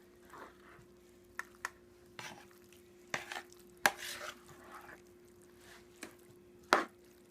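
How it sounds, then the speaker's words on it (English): A spoon stirs stuffed pepper filling in a bowl, giving soft wet squishes and a few sharp clinks against the side, irregular and close, with no talking. "And now I'm just going to mix all of this together."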